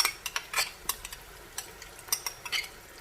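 Mutton karahi with whisked yogurt stirred in a pan, with a series of sharp metallic spoon scrapes and clinks against the pot at an irregular pace over a quiet cooking background.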